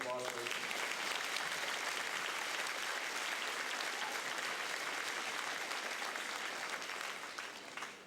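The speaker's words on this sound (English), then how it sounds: "Let's give them a round of applause." Sustained applause fills a school gymnasium during a high school academic awards assembly, a dense, even roar of clapping from a large crowd that holds steady and then begins to fade near the end.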